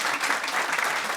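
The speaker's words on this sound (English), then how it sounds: "So a big round of applause." Steady audience clapping after a presentation on personalised email, dense and even throughout a short burst with no voices.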